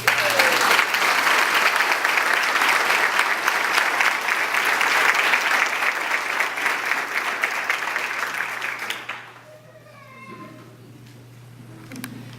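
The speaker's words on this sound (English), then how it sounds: "Let's give another round of applause, please." Audience applause after a nursing pinning ceremony speech: loud, sustained clapping from a crowd that fills the room for about nine seconds, then stops abruptly, leaving faint room noise and a brief voice.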